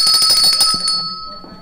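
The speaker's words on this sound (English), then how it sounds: "There is a bell." A bell rings with a bright, sustained metallic tone that hangs for about a second, then fades away, with faint low background noise beneath.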